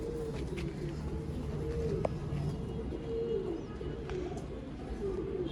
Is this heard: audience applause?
no